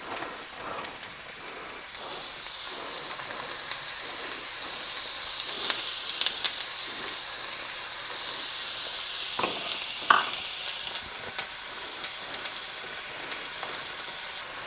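Onions sizzle and crackle in hot oil in a braiser, a dense steady frying hiss with scattered pops and a few stirring clatters, no voices.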